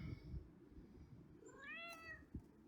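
An outdoor cat gives a single clear rising-then-falling meow, fairly close, with faint low rustling and knocks before and after.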